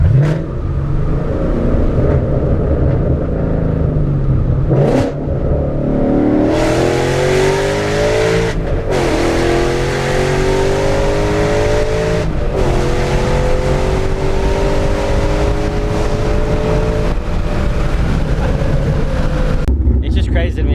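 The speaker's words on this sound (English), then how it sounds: "Roush exhaust really helps it sound mean." A car fitted with a Roush exhaust revs hard several times, its loud engine note climbing and falling in sweeping surges, with brief pauses between pulls and people talking underneath.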